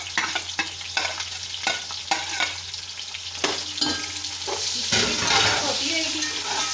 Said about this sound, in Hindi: ये हमारी चर्बी देखे साथ साथ पिघल रही है, और इसके साथ ही हमने इसके अंदर अनियन डाल देंगे